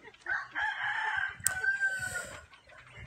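Backyard pet chickens at a small coop, with a rooster giving a single close crow over soft clucking.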